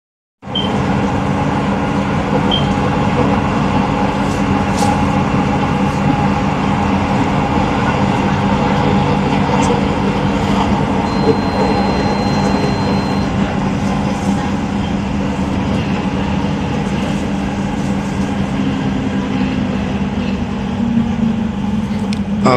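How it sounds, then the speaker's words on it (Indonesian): Inside an LRT Jabodebek light rail train pulling into Pancoran station: a steady, loud rolling rumble with a faint whine that drifts lower near the end, holding constant throughout. "LRT yang saya naiki tiba di stasiun Pancoran."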